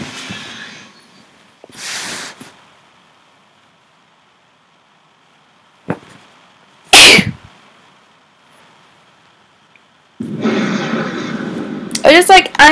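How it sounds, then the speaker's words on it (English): A sharp, forceful sneeze bursts out loud and alone, followed by quieter moments and then game sounds with a voice near the end. "I just like angrily sneezed."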